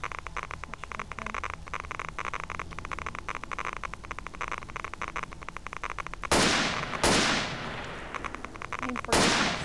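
Gunfire in the video game Return to Zone: a few sharp, loud shots with decaying tails ring out near the end, after a stretch of steady crackly background noise.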